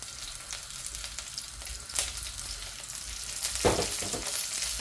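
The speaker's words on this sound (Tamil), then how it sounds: "இப்போ இதெல்லாம் நல்லா பொரிஞ்சு வர வேணும்" Curry leaves and spices fry in oil, sizzling and crackling steadily in a pan, with occasional sharper pops and a louder burst of frying near the end.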